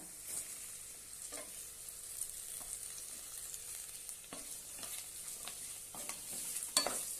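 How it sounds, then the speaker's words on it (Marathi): Okra with gram flour and garam masala frying in a pan, a quiet continuous sizzle with scattered scraping and stirring clicks from a spatula, some sharper near the end. "मस्तपैकी परतून घेऊया"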